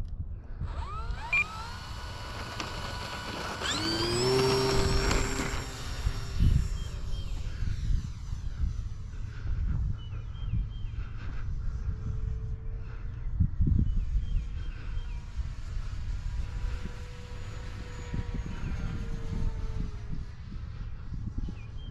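An E-Flite Turbo Timber RC airplane flies a go-around in a crosswind, its electric motor whining steadily at moderate distance with a louder swell early on, over continuous wind buffeting on the microphone.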